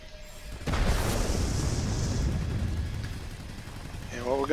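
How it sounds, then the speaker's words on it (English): A bomb dropped from a German Messerschmitt Me 329 attack aircraft explodes in World of Warplanes, a sudden loud boom followed by a long rumbling roar that stays heavy for several seconds. "we're going to come over here and drop our bomb. We'll drop it on this housing facility here."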